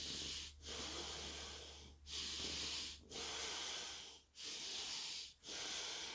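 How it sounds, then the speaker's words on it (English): Slow, deep breaths during a breathing exercise come close and soft, five long airy inhales and exhales in a steady rhythm, each separated by a brief silent gap, with no talk. "Keep breathing."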